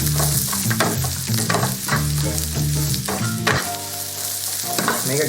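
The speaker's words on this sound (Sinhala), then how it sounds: "ඊට පස්සේ අපි මේක ලීක්ස් දාගන්නවා. දාලා හොඳට කලවම් කරගන්න." Leeks stirred into kottu frying in a pan, a continuous loud sizzle with rhythmic scraping and clanking of a utensil against the metal, close and without talk.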